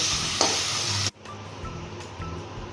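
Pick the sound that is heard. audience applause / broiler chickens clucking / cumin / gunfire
cumin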